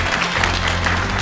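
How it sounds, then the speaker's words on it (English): Audience applause at a fan convention panel, a steady wash of clapping from a crowd that fills the whole short stretch at an even, loud level. "Give yourselves a round of applause."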